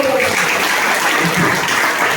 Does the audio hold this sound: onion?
no